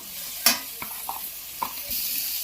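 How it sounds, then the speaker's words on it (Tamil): Beans and carrots are stirred into a sizzling pan for vegetable kurma, with a few scraping clatters of a spoon over a soft steady frying hiss. "நம்ம நறுக்கி வச்சுருக்க இந்த பீன்ஸு, கேரட் இது ரெண்டையும் இதோட சேர்த்துக்கிறேன்"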